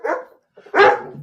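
A pet dog barks twice nearby, a short yip followed by a louder full bark, with no talking over it.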